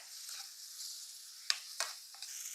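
Onion, tomato and curry leaves softening in a pan make a faint, airy, high sizzle, with three or four sharp spatula scrapes toward the end and no voices.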